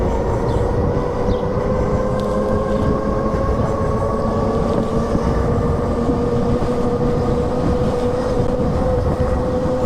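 A motorized X class bike with an upgraded sprocket and pedals accelerates with the throttle opened, its motor giving a steady, loud whine that rises slowly in pitch over heavy road and wind rumble, close up, with no talking.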